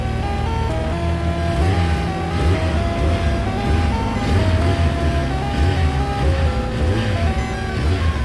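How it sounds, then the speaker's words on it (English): A newly bought motorcycle's engine is revved repeatedly, with several low throaty surges rising and falling over a steady tonal background, close and fairly loud. "You want to rev it? Do it."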